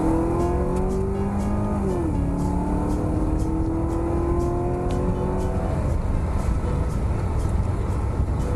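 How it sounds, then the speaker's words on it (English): Loud intake roar of a Toyota Cresta LX90 with a 1UZ-FE V8 engine, heard from inside the car, revs climbing and shifting with a dense whooshing drone throughout, no speech. "Inside the car, most of what you hear is intake noise."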